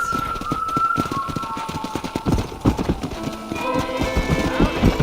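Horse hooves clip-clop in a quick, even rhythm close by in Red Dead Redemption, with a sustained tone and faint music behind them.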